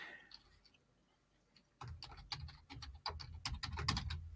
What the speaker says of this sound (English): Sorry, I was typing in my thing.